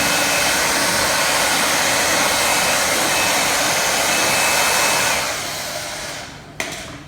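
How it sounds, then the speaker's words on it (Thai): A hair dryer blows steadily and loud to dry a freshly applied sticker on a Honda PCX scooter, running alone then tapering off with a click near the end. "แล้วเราก็เอาไดเป่านิดนึงให้มันแห้ง"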